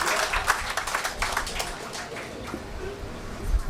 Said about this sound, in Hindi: सच्ची जोरदार तालियां। Very big hand.